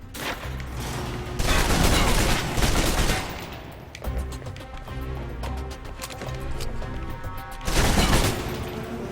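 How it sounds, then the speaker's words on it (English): Submachine guns fire in the video game Alpha Protocol, with long, loud bursts of rapid shots and a stretch of quicker, lighter shots between them, sounding close and dense. "the SMGs can help clear the room quickly. Not subtle or quiet"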